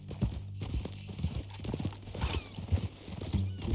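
Horse hooves clop steadily while a horse whinnies in a Western ranch video game, close and rhythmic over a low game soundscape, with faint voices in the background.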